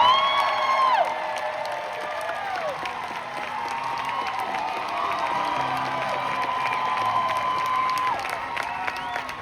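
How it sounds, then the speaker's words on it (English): Audience applause with cheering and whoops rises from a crowd at a live-action film world premiere, greeting villager dancers on stage. It is loud and sustained for the whole stretch, with high shouts and whistles over the dense clapping. "Give them a round of applause."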